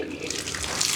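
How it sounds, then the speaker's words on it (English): Water runs from a regular faucet with good pressure in an apartment bathroom, a brief, steady, close rushing hiss. "good water pressure for the regular faucet"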